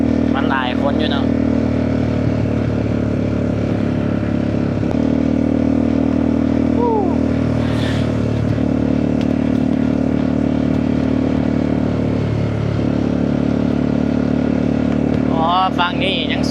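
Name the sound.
motorcycle riding along the Mekong River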